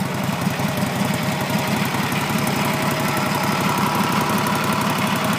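A 1947 Harley-Davidson FL Knucklehead motorcycle engine idles close and loud with a steady, lumpy rhythmic thump and mechanical clatter, running evenly throughout without talk.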